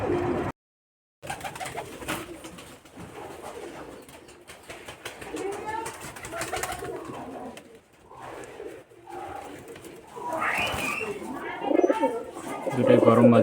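Rajshahi Giribaz pigeons coo repeatedly at close range, with soft rolling calls and occasional wing flutters, while someone talks over them almost throughout.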